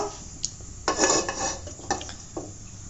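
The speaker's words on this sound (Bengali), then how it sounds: "চুলায় প্যানটা দিয়ে দিই।" A frying pan being set on the stove before frying cabbage pakoras in mustard oil, giving a few close metallic clanks and scrapes, one louder clatter among lighter knocks.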